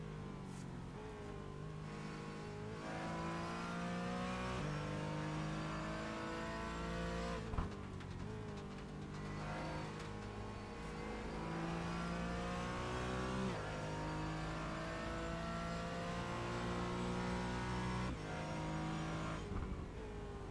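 A Porsche Cayman in a racing simulator game at the Zolder circuit revs steadily for about twenty seconds, engine pitch climbing and dropping through repeated gear changes, with faint tire squeal along the way.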